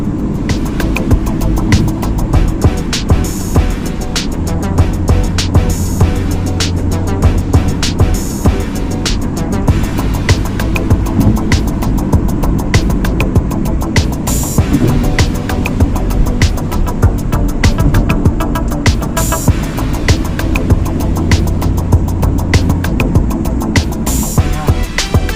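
A Hyundai Verna with a misfire fault, codes P0300 and P0304, drives along with a steady, continuous engine and road drone. The low rumble holds evenly for the whole stretch, with no talk over it.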